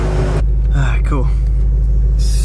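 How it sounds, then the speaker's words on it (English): Ford Mustang GT500 engine idling with a loud, steady low rumble throughout, heard close up while a person talks over it. "So he pretty much just wants me to get an idle log. So start logging that idle"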